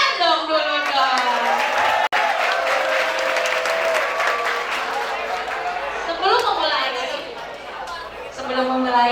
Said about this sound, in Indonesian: Tepuk tangan dong dulu dong.